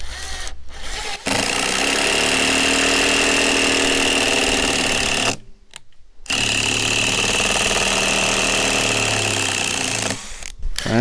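A cordless Craftsman 19.2-volt drill driver fitted with a Robinson bit runs in steady, loud whirring bursts as it drives a screw in and then backs it out, with two short pauses between runs.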